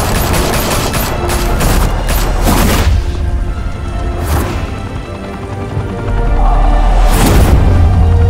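Gunfire erupts in the video game Batman: The Telltale Series as bursts of shots and booming impacts ring out, with loud volleys near the start and end and a brief lull in between.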